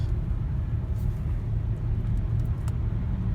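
A 2020 Kia Telluride S AWD drives through snow, giving a steady low cabin rumble of road and engine noise with faint occasional clicks over the top.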